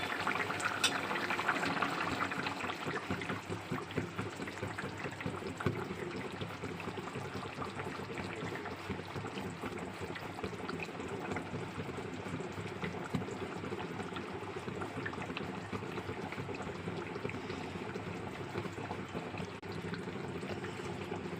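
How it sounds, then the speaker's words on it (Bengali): Rohu fish curry with coriander leaves, malabar spinach stems, spiny gourd, pointed gourd and potato simmering in a pot, a steady close bubbling hiss that runs on without a break and with no voices. "এটা ভালো করে ফুটলে আমি তারপরে নামিয়ে নেবো"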